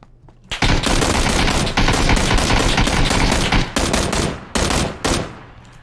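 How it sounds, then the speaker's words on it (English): Dense bursts of automatic gunfire from PUBG, loud and close, rattling almost continuously for several seconds, then breaking into shorter volleys with brief gaps. "If that guy's shooting at me, I don't know where he is."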